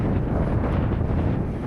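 Strong wind roaring across an open salt flat where a cyclist pushes a bicycle, a steady, loud, buffeting rumble hitting the microphone without pause.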